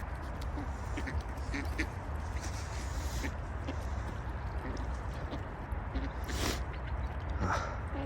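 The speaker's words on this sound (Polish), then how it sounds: "O, są kaczki." Ducks quack intermittently close by over a steady rumble of wind and ambient noise, with a few sharper calls standing out.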